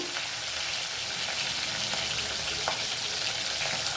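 Green chillies, slit lengthwise and crosswise, frying in a pan for a red amaranth and tomato curry, giving a dense, continuous loud sizzle with faint crackles throughout.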